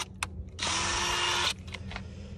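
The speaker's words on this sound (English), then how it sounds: "got these holes drilled" A power drill bores a hole through a wooden trailer bunk board on a boat trailer, one near, loud whirring burst of about a second with brief clicks before and after.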